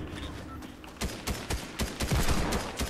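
Gunfire sprays at enemies in a ranked video game match: a rapid sequence of sharp shots in bursts that grow denser and louder toward the end, with no talk over it.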